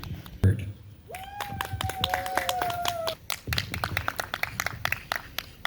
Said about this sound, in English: Thank you for those two applause.